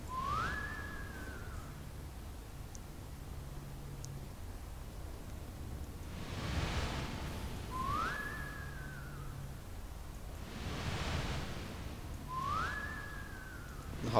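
A rising-then-falling whistle repeats three times at even intervals of about five seconds, faint and isolated against a quiet background.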